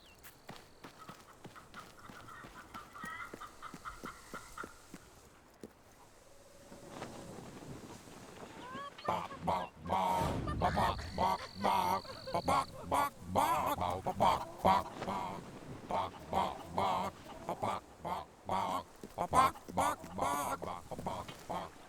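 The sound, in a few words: chickens clucking, from the video game Fable 3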